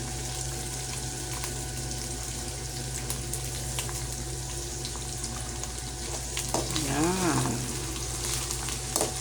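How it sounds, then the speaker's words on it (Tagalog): Tuna sautéing in a pan with garlic and onion, a steady frying sizzle running throughout at moderate level, with a brief stirring or scraping passage near the end and a short spoken word. "So yan po yung tuna. Ginisa sa bawang at sibuyas."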